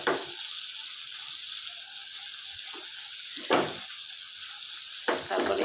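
Small shrimp dusted with turmeric powder sizzle steadily in a frying pan while being stirred, with a few louder scraping strokes of the spatula breaking through the constant hiss.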